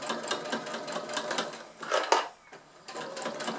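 A sewing machine stitches slowly along an old denim jeans apron, a close, steady rattling patter that slows and dips briefly before picking back up.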